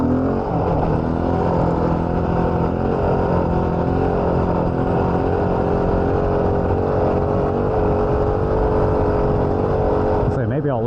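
A Yamaha WR450F dirt bike engine drones loud and close while riding, holding a steady, buzzy pitch with little change before a brief shift at the end.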